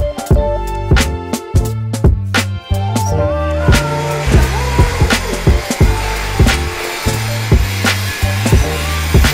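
Tile is cut outside on a construction site during interior renovation work. A loud power cutter whines in repeated short bursts, each rising and dropping off, with a rough, harmonic buzz.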